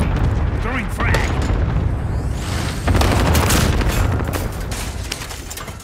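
A frag grenade goes off in Call of Duty: Modern Warfare, a loud booming blast amid a dense, continuous barrage of gunfire and rumbling explosions, with a player's voice speaking over the action.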